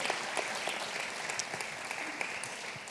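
Church congregation applauding during a Spanish-language service, a sustained wash of many hands clapping with scattered sharper claps, fairly soft and distant, with no talking.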